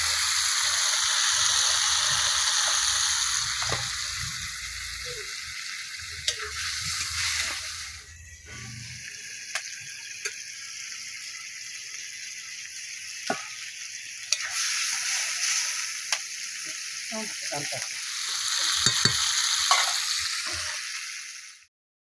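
Eggplant curry sizzles and fries in a pan with salt and turmeric added, with steady loud frying at first, then quieter sizzling punctuated by repeated clinks and scrapes of a spoon stirring.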